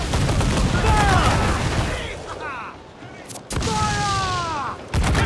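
Ship cannons firing a broadside in Assassin's Creed IV Black Flag (2013), heavy booms rolling out one after another over a wash of sea-battle noise, with crew voices shouting between the shots.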